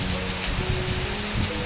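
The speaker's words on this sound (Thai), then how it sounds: "ฝนตกหนักมากแถวชนบทของ จังหวัดพะเยา" Heavy rain pours steadily on surfaces in rural Phayao, Thailand, with a dense, continuous loud hiss and a low rumble of wind beneath, and no voices.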